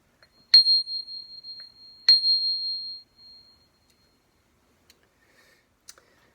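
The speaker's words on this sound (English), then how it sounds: "This is one of the smallest bells we have." A tiny C8 handbell chimes twice, each strike bright and thin with a short shimmering ring, followed by a few faint clicks in near silence.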